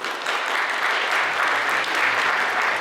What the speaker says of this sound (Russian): давайте громко аплодировать